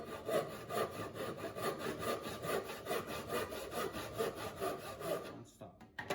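A hand saw cuts a tenon guideline into timber held in a vise, with steady rhythmic back-and-forth rasping strokes, close and even, stopping abruptly near the end.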